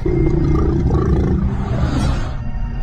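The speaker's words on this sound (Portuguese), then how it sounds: "Grunhidos." A deep, rumbling animal growl rolls on continuously for about three seconds, loud and close, with no voices.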